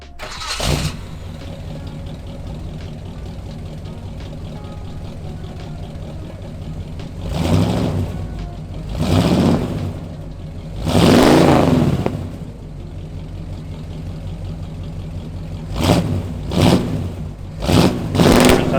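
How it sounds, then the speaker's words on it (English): A custom 1940s Dodge street rod engine starts with a quick crank, settles into a steady idle, then rises in several loud revs of varying length, close by with no talking. "I'm about ready to hear it and start it up and go on a ride"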